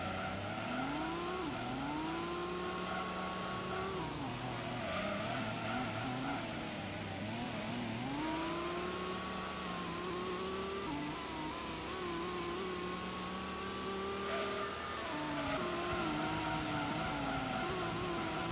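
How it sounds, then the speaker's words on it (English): Race cars lapping a circuit in the Gran Turismo video game during a night endurance race, engines droning steadily with rising and falling pitch as gears shift, distant cars audible in the background, no talk. "You can hear the other cars on the other side of the circuit."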